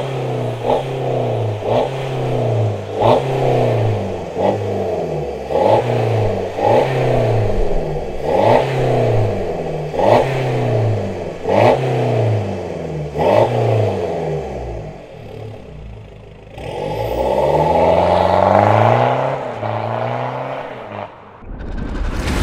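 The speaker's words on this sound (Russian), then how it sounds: "Под ваши аплодисменты, BMW 320 дизель." Diesel BMW 320 with an aftermarket exhaust revving hard in repeated loud, close bursts, each blip rising and falling in a steady rhythm, ending in a longer sustained rev with no talking.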